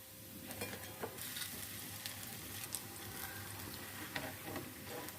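Spinach pakoras fry in hot oil, a soft steady sizzle with scattered small pops and clicks, quiet and close, without talk.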